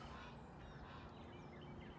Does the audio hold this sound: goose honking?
yes